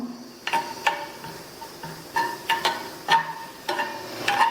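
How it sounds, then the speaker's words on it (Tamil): Grated coconut dry-roasting over medium heat, with a spoon stirring it around a pan in repeated scraping strokes and light crackle, close and moderately quiet, with no talk. "மிதமான தீயில வச்சு இதை ஈரப்பதம் போக வறுத்துக்கங்க"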